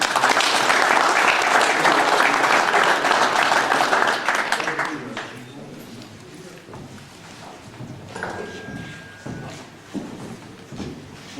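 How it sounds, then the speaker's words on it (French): Loud applause from an audience at an outdoor hare-hunting pack trial in Bas-en-Basset, saluting the dogs and their handlers, fading after about five seconds into scattered claps, murmuring voices and outdoor background noise. "On peut les applaudir."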